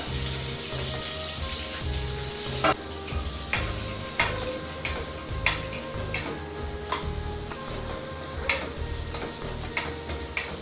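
Onion, garlic and bay leaf frying in oil in a pan, a constant bright sizzle under irregular clicks and scrapes of a spoon, with a low steady hum beneath, close and fairly loud throughout.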